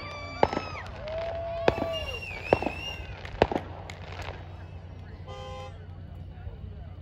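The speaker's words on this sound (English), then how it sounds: "It was fireworks." Fourth of July fireworks bang in four sharp, loud explosions spaced a second or so apart, with whistling trails and crackle between them, over steady background hum and occasional voices.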